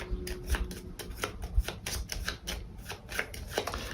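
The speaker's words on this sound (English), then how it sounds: "So I'm going to draw up his cards and shuffle them." A deck of cards for a Terraforming Mars: Ares Expedition solo game is shuffled by hand, giving a run of quick, crisp riffling and tapping bursts up close with no talk.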